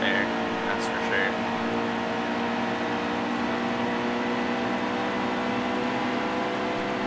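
Race car engines in a NASCAR video game drone steadily and loudly throughout, a continuous layered whine with no break in intensity.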